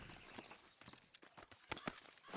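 Faint hoof clip-clops of a horse walking in the video game Red Dead Redemption 2, a few soft irregular steps mixed with quiet game ambience.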